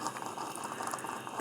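A stovetop moka pot gurgles at the end of brewing, a steady close bubbling and sputtering of coffee that runs without a break and without talk.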